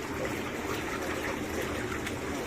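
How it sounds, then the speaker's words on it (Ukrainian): Cold water pours steadily into a liquid fertilizer solution in mixing equipment, making a dense, even rushing splash that stays level throughout. "Далі ми додаємо трошечки холодної води, щоб збити температуру"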